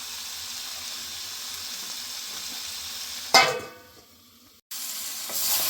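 Mutton fat frying in a pan with a steady, fairly loud sizzle, broken by a sudden clatter and a brief near-silence before the frying hiss returns.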